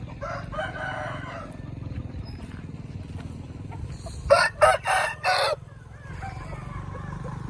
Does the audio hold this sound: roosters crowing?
yes